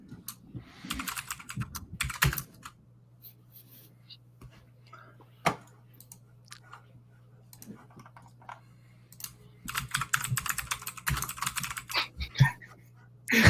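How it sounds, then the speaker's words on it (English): Rapid clacking of a computer keyboard comes in dense bursts with quieter gaps, over a low electrical hum. "Gotta love the keyboard, bro."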